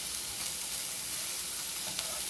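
Bacon and burger meat fry on a flat griddle with a constant, close hiss of sizzling fat that stays level throughout, punctuated by a faint spatula scrape. No talk is present.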